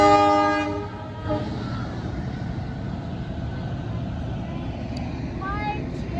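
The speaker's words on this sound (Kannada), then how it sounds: "ಓಕೆ ಟ್ರೈನೆಲ್ಲ ಹೋಗ್ತಾ" A train rumbles past steadily with a loud horn blast at the start, wheels clattering throughout and a short second horn toward the end.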